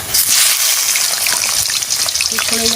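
Chicken pieces hit hot spiced oil in a pan for a mango chicken curry, setting off a loud, steady, close sizzle that fills the whole stretch without a break.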